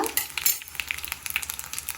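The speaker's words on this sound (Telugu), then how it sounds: "నేను తాలింపు గింజలు వేస్తున్నాను ఇవి కొంచెం వేగిన తర్వాత" Tempering seeds crackle and pop in hot oil for a dal rasam, with rapid irregular sizzling bursts that are fairly quiet and steady, and no talking.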